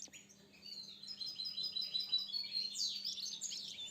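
Goldfinch chirping in repeated high, bright twittering phrases that grow busier and louder through the second half, with no voices, over a faint steady low hum.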